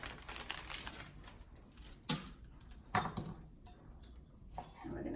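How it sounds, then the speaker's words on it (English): A knife chops ham into strips on a cutting board, for a sausage soup. Several sharp taps sound close, with a few louder knocks over quiet background noise and no talking. "So we're gonna start off as cutting it in strips."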